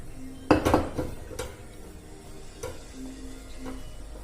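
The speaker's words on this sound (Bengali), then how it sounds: "এর মধ্যে ছোলাটা দিয়ে দেবো।" Dry chickpeas tipped into a metal pressure cooker make a burst of rattling, clattering clinks up close, followed by softer scattered taps and a low hum, with no talking.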